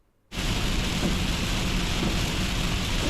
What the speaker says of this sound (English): the sound of this rain